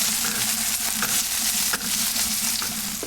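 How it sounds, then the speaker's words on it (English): Potato cubes stir-frying in ghee with cumin and green chilies, a steady close sizzle with soft scraping and stirring clatter throughout, no talk. "Stir fry them for just a couple of minutes"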